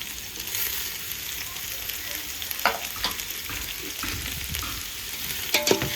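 Chopped onions for prawn biryani sautéing in a pan, with a constant close sizzle and occasional scraping stirs and clinks, no voices.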